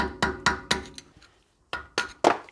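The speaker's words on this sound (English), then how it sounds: "Take a flathead screwdriver and a hammer, and we're just going to gently tap on it to separate it from the flange." Hammer tapping a flathead screwdriver to free a dust cap from the flange on a Toyota Land Cruiser swivel hub, six crisp metallic taps in two quick groups of three with a short gap between.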